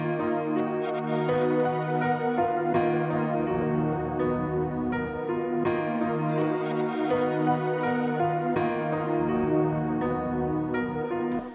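Piano melody produced in FL Studio, run through the stock FL reverb and Output's Portal effect, playing as a dense, sustained, washy stream of layered notes at a steady loudness with no talking.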